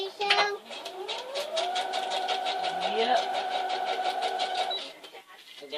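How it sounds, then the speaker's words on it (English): Sewing machine stitching around the edge of a dog food bag, a steady rapid mechanical whir with rhythmic needle clatter, close and continuous before slowing near the end. "we're going to take her over to the sewing machine and we're going to give her a sew all the way around"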